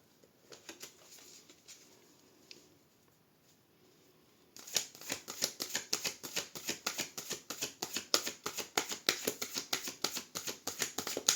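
Tarot cards shuffled for a reading, sparse soft riffling at first, then a dense run of quick crisp card snaps and flutters, close and steady, with no talking.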